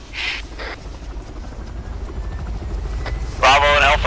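In a military video game training mission, a helicopter's rotors thrum low and steady at close range throughout. Radio-style voices cut in over the noise, louder near the end.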